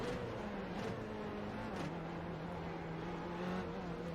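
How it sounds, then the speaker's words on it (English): Formula Renault 3.5 cars launching at the race start at Circuit Gilles Villeneuve in iRacing make a continuous loud engine drone, tires spinning up as revs rise and shift in layered tones. "The tires are being spun up as there are 5 red lights, and away they go here at Circuit Gilles Villeneuve"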